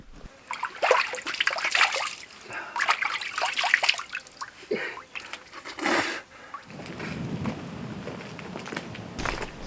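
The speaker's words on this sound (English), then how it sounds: "Oh, water." Water trickles over rock in the Gammon Ranges of the remote Australian outback, a soft, steady flow mixed with nearby footsteps and rustling.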